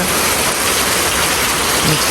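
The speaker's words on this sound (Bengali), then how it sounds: "প্রচুর বৃষ্টি হচ্ছে রাত থেকেই" Heavy rain pours steadily at night and into the morning, a loud, dense, unbroken hiss close by that covers the whole span, with a voice faintly present beneath it.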